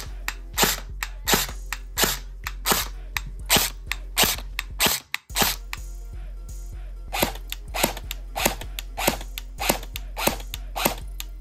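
An airsoft rifle with a DC motor fires about fifteen sharp, evenly spaced single shots, each a crisp mechanical crack. The shots stop for one short pause partway through and then resume at the same steady rhythm, close and clear.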